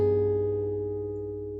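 An extended guitar chord with a flat 13 and flat 9 rings out once, clean and fairly soft, sustaining and slowly fading over about a second and a half with nothing else playing.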